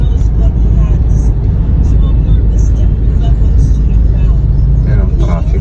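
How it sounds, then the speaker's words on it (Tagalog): Road traffic in Manila, Philippines, fills the clip with a loud, continuous rumble of car and bus engines, passing vehicles and occasional horn-like tones, with no break. "Yan ang traffic."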